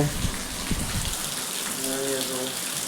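Steady rain patters on a surface, with a soft rushing wash throughout and a few faint thumps near the start.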